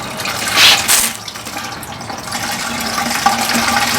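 Automatic transmission fluid pouring from the drain of an Acura TLX into a catch pan, a steady close splashing trickle throughout.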